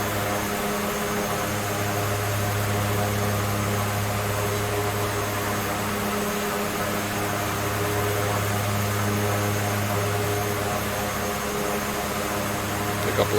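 Twin turboprop engines of a de Havilland Twin Otter DHC-6 in X-Plane 11, climbing out after takeoff, a steady loud droning hum with a pronounced low tonal whine held evenly throughout.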